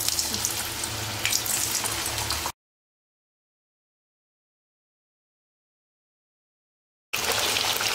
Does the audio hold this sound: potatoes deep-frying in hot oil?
yes